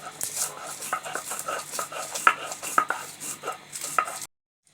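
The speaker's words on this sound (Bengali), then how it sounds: "আমরা পাটার মধ্যে আমরা যে মশলাটা ছিল সেটা নিয়েছি, পেঁয়াজ, রসুন, শুকনো মরিচ, কাঁচামরিচ" Onion, garlic, dried and green chillies with a little salt being ground by hand on a stone grinding slab (pata), a close, rhythmic series of gritty rubbing strokes that stop abruptly at the end.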